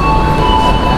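A KRL commuter train stands at Yogyakarta Tugu station, giving off a loud, close, unbroken mechanical hum with a steady high whine running over it.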